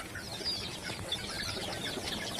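Chickens and chicks cluck and peep faintly and continuously, with soft overlapping calls and no talking.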